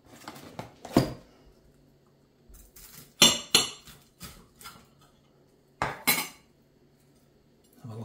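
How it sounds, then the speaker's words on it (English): A knife chops open battered haddock loin fillets: a handful of sharp, close clinks and crunchy cuts spaced out with quiet pauses, some coming in quick pairs. "So I'm going to chop one open."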